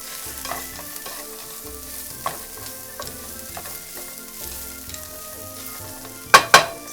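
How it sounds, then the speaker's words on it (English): Onion sautéing with frozen peas and carrots in a pan for hibachi-style fried rice, a steady low sizzle with faint stirring scrapes and a couple of sharp utensil clanks near the end. "We're going to saute this with the frozen vegetables."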